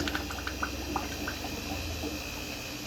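Thick liquid clay slip gurgles and sloshes in a bucket with small bubbly blips in a steady churning rhythm, close and moderately quiet, with a low mechanical hum underneath.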